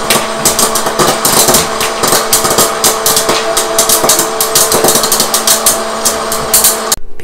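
Popcorn popping in an oil-free hot-air popcorn maker: a dense, irregular burst of sharp pops over the steady whir of the machine's motor, loud and close, stopping abruptly at the end.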